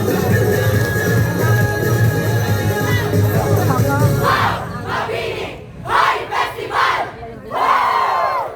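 A crowd at a street dance roars and shouts, first a dense sustained din over a music-like drone, then several loud surging bursts of yelling and cheering near the end.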